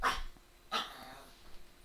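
A dog gives two sharp, fairly close barks about three quarters of a second apart. A low growl follows, and then the clip goes quiet.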